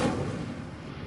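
An Incendio fire spell cast in the video game Hogwarts Legacy erupts as a brief, loud, rumbling burst of flame that fills the moment and holds steady.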